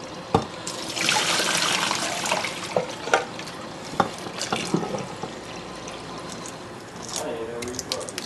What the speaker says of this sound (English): I put cold water in, and it makes it easier to peel.